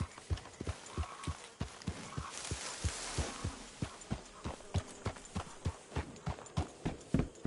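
Steady clip-clop of horse hooves at a walking pace in a PS4 video game, evenly spaced and fairly quiet, with no talking.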